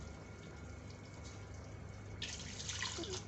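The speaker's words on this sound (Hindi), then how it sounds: "अब इसमें पानी शामिल करते हैं।" Water is poured from glasses into a pot of browned chicken for degi-style chicken pulao, a steady splashing rush that swells louder near the end, close by with no talking.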